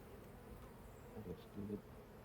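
Honey bees buzzing faintly around an open hive during a first-year beekeeping inspection, a soft continuous hum with a couple of closer passes swelling briefly.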